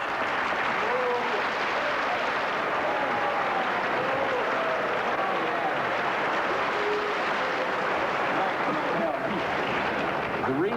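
Loud, sustained applause from a large crowd fills the whole stretch, dense and steady, with scattered cheers mixed in.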